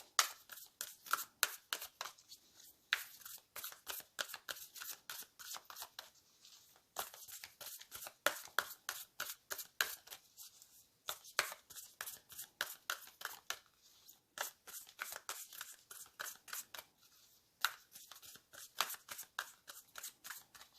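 Sacred Destiny Oracle cards are shuffled in quick riffling bursts, crisp papery flutters repeating in rapid runs with brief pauses between, close and fairly quiet.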